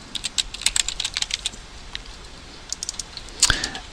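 Keys clatter on a computer keyboard as a file name is typed, a quick irregular run of close, crisp clicks with a short pause mid-way and a sharper clack near the end.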